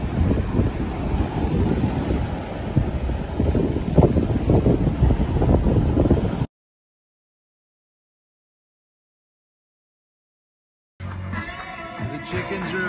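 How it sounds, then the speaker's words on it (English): Big waves roll onto a Cozumel beach in a loud, churning roar mixed with wind buffeting the microphone. The sound cuts to silence partway through before a different noise resumes briefly. "These waves are coming in big"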